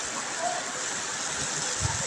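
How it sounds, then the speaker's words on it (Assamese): Rain that has just begun falling makes a steady, fairly quiet hiss with no clear breaks, and faint low rumbles underneath. "দেখিছেনে এই মাত্ৰ আহিছে বৰষুণ"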